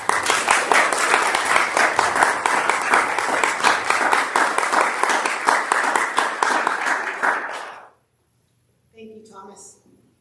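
An audience welcomes a guest reverend to a spiritual center talk with loud, sustained applause for about eight seconds. The clapping stops abruptly and a voice begins speaking after a short pause.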